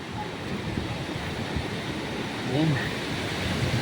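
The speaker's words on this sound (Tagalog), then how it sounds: "Narinig yung hangin, malakas." Strong wind roars across a mountain overlook in Angono, Rizal, a steady broad rumbling gust that swells louder toward the end, with a brief spoken word over it.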